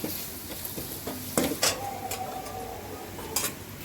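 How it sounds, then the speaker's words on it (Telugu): A spoon stirs gobi manchurian ingredients together in a bowl, giving a few soft scrapes and clinks at close range with no talking. "ఇలా వేసి కలుపుకొని"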